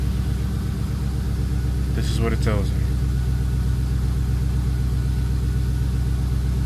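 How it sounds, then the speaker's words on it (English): A rebuilt Chrysler 300 Redeye engine idles steadily nearby with a constant low rumble while someone talks over it. "Now I got the car running"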